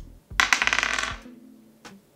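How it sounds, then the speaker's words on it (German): Dice are rolled onto a hard surface, a burst of bright rattling clatters that tumbles for under a second and fades, followed by a single small tap, close and alone. "ich würfel jetzt das letzte Mal in diesem Video"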